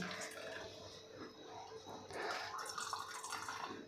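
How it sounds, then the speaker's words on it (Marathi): Warm curdled milk wrung tightly by hand lets water stream and trickle out in a steady, moderately loud wet flow that swells slightly midway, with no talking. "आपल्याला हे घट्ट पिळून घ्यायचं आहे यामध्ये अजिबात आपल्याला पाणी ठेवायचं नाही"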